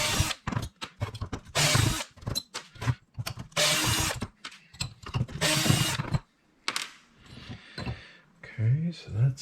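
Short bursts from a power tool whir and ratchet as solenoids are loosened from an RV hot water heater for scrap, with metallic clanks between bursts and someone talking in the pauses.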